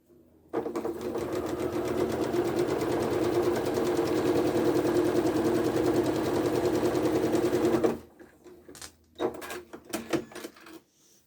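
A sewing machine stitching a quilt block strip runs in a loud, steady rapid whir for about seven seconds, then stops, followed by a few short clicks and bursts of handling.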